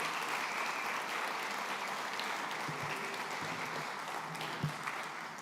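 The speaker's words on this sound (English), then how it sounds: "Can we give a big round of applause to all of our great sponsors?" A gala crowd at a community center gives sustained, even applause for the evening's sponsors, a thick continuous wash of many hands clapping throughout, with a few faint thumps underneath.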